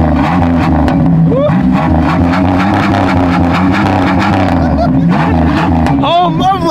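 A turbocharged Ford Mustang engine revs loudly and continuously up close, with people talking and shouting excitedly over the roar throughout.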